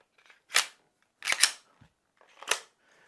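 A Glock 17 Gen 1 pistol is function-checked, giving three crisp, separate mechanical clicks and snaps spaced under a second apart, close to the mic in a quiet room.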